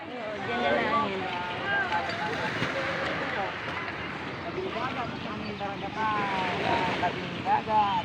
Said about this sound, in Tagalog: Ito po ang karagatan ng Kinabigan, Pinamalayan, Oriental, Mindoro.